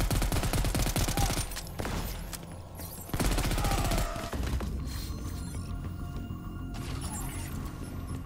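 A grenade launcher fired in the video game Crackdown 3, heard as loud rapid bursts of explosive fire and blasts layered over a dense game soundscape, continuing throughout.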